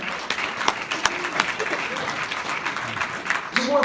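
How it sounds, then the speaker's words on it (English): A seminar audience applauds Hector as he is called up, a steady wash of many hands clapping with some brighter individual claps, fairly loud and continuous, with a voice faintly in the mix. "Big round of applause for Hector"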